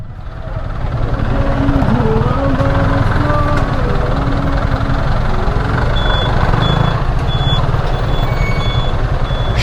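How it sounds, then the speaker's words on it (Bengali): Dense market traffic jam in Bangladesh: loud, continuous engine rumble from trucks and other vehicles close by, with scattered horn and beep tones cutting through the din. "বাজারে ট্রাফিক জ্যামে আটকে আছি"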